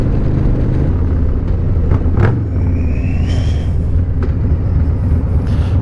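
A cammed Harley-Davidson Milwaukee 8 motorcycle engine cruising through San Bernardino, a steady low rumble heard from the saddle with wind and road noise throughout, a brief louder swell midway.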